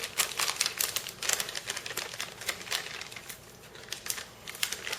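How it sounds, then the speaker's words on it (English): Packaging being unwrapped from a PowerLogix G4 CPU upgrade, rapid close crinkling and crackling of plastic or paper in irregular bursts, fairly faint. "When I unwrap a PowerLogix G4 CPU upgrade, I get the sensation"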